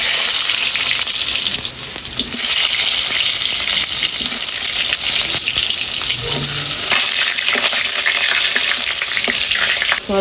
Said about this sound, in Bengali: এবার আলুটা প্রথমে ভেজে নেব